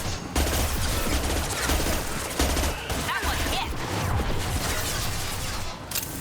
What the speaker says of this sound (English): We got somebody shooting us from behind.